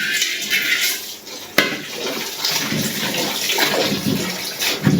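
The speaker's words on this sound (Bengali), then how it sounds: "এখন সবজিটা ধুয়ে নিই" Mixed vegetables, including sweet potato, are rinsed under running water in a home kitchen; steady splashing and trickling fill the clip, with a sharp knock near the middle and light clatter of pans.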